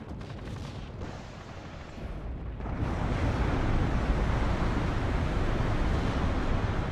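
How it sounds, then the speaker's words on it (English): Rocket artillery in the WARNO strategy video game fires in a deep, rumbling wash of launches and distant blasts that swells louder partway through and keeps going, with no voices. "You see those rockets going out every so often."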